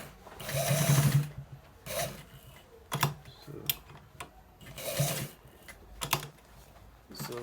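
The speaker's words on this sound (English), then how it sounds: "So we are stitching it to the down parts." A sewing machine stitches a senator front pocket in short bursts of rapid mechanical chatter, separated by brief pauses, close and clear with no talking.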